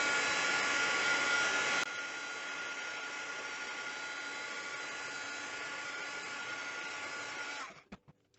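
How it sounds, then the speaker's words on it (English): A heat tool blows steadily and loudly, drying glued vintage playing cards on a backing. The hiss runs continuously with one slight drop partway through, then cuts off near the end. "I am just going to dry these with my heat tool."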